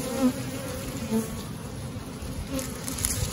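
Steady insect buzzing from many honey bees at a hive, a continuous low drone with slight swells, moderately close and with no voices.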